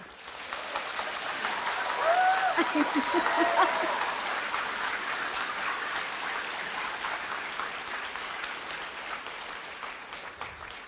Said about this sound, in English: Again, let us welcome with grand applause